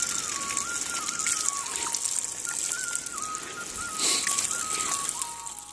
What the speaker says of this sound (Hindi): पानी का धारा लगा हुआ है प्राकृतिक